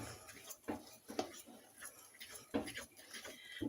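Utensil scraping and tapping in a bowl while pineapple cake batter with baking powder is mixed, giving faint, irregular clinks and scrapes, with a voice speaking quietly now and then.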